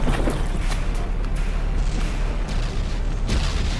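Cannon fire slams into a battleship in the naval game From The Depths, with heavy, overlapping booms and crashing impacts rolling continuously under a dense wash of battle noise.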